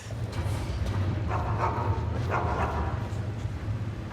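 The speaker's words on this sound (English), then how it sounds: "Don't mind the dogs. They get anxious when they haven't had dinner." Dogs in the video game Skyrim, during the Dark Brotherhood quest line, let out a couple of short barks and yips at moderate distance over a steady bed of game ambience.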